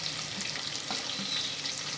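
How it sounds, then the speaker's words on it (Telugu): Onions, curry leaves and ginger pieces frying in a pan for broken rice upma, a steady soft sizzle with faint crackles, close and quiet, no voices. "ఉల్లిపాయలు కొంచెం వేగాక కరివేపాకు, నెక్స్ట్ అల్లం ముక్కలు,"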